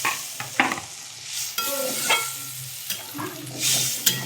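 Water is poured into a pan of soybeans and spices frying for a vegetarian curry, setting off bursts of loud, close hissing and bubbling amid stirring scrapes.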